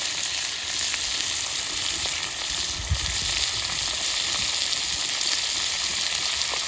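Onion, ginger, garlic, cumin, dried red chilli and coriander frying in a wok, a dense continuous sizzle close by with faint occasional stirring clinks and one soft knock, no talk.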